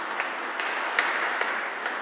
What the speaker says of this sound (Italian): L'applauso a Gioele